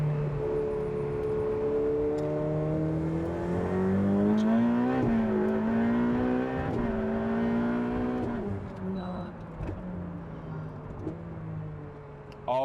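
A Ferrari 488 Pista drives from inside the cabin, its engine note climbing steadily through the gears in smooth rising pulls, with shifts breaking the tone before it eases off and fades near the end.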